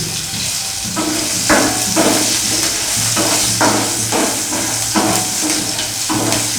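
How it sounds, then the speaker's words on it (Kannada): Green chillies frying in a pan for a sprouts egg burji, a loud steady sizzle with periodic scraping stirs, close and alone. "ನೋಡಿ, ಇವಾಗ ಮೆಣಸಿನ್ಕಾಯಿ ಚೆನ್ನಾಗಿ ಫ್ರೈ ಆಗಿದೆ"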